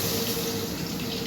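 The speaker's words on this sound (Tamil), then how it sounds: "அதை நல்லா கரைச்சிக்கிட்டு அந்த தண்ணியை ஊற்றணும்." Water poured into a cooking pot of dissolved gram flour for a roadside-style vada curry, a steady continuous splashing pour heard close up with no talk.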